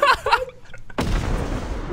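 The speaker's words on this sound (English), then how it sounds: "Oh, he threw a bomb!" A bomb bursts in the video game Content Warning, a sudden loud broadband boom with a rumbling tail that fades over about a second, right after a short stretch of excited voices and a chuckle.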